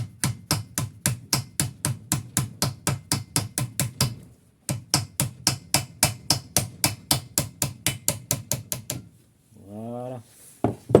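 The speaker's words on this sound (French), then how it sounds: "on prend son plus beau marteau et on y va. Donc, on tape par derrière là." Rapid, evenly spaced hammer blows strike the back of a Jeep Grand Cherokee CV joint, two loud metallic bursts of about twenty hits each separated by a short pause, followed by a brief scraping squeal as the part slides free.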